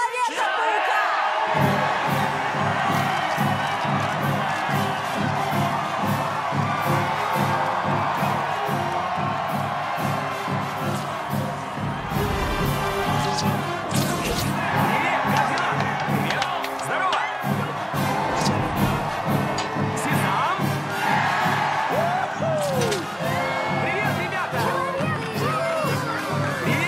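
A large cheering crowd gives a sustained, loud ovation for Spider-Man, with whoops and shouts rising and falling under a steady roar that lasts throughout.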